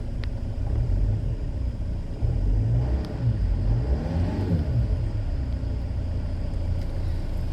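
A 2008 Land Rover Freelander 2 engine with a newly installed throttle body idles with a low rumble and rises briefly in a quick rev before settling back, heard close up.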